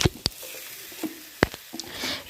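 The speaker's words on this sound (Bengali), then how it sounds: "তারপরে তেলের মধ্যে পেঁয়াজ লঙ্কা তেজপাতা দিয়ে মাছটা দিয়ে দিয়েছে" Fish frying in oil with onion, chili and bay leaf, a steady close sizzle broken by a few sharp clicks and scrapes of stirring.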